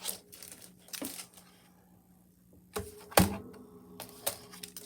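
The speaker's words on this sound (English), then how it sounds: "So let me cut a 4 inch piece." Card paper being cut to a four-inch piece for a baby carriage card, a few sharp crisp snips and paper rustles in short separate bursts with quiet gaps between.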